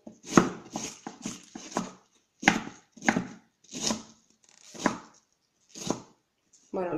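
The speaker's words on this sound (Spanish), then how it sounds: "lo picamos todo" A knife chopping through cabbage on a board in a quick burst of cuts, then separate heavier chops with short pauses, close and crisp, and no one speaks.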